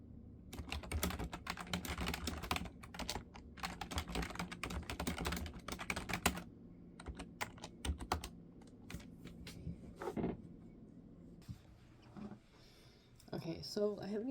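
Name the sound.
typing on a computer keyboard while writing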